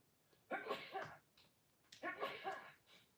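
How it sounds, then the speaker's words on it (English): Two bursts of sneezing, each a sharp breathy explosion lasting about half a second, separated by a short pause, fairly close and otherwise quiet. "I got to sneeze, so hold on"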